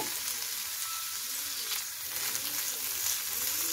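Boiled potatoes frying with quinoa poha in a hot pan, a steady close sizzle with soft scraping of a spoon stirring throughout, no voices.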